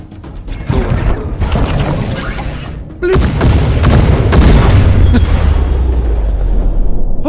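Breach barrage attack striking in a turn-based video game: a burst of heavy crashing booms and mechanical clatter, loud and dense, swelling again after a short lull and rumbling on.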